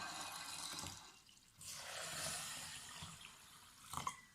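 Water pours into a carafe over dry organic lentils and chickpeas, a steady rushing flow with a gurgling surge midway and a brief splashy clatter near the end, close and alone.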